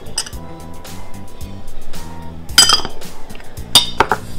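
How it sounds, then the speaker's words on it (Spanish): Shrimp are tossed with Old Bay and Cajun spices in a bowl, giving scattered clinks and scrapes of a utensil against the dish over a faint low background hum. "Entonces los vamos a mezclar nada más. De modo que todos se integren entre sí."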